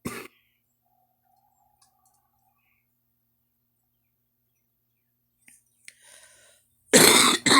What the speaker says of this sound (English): I just cannot get rid of that cough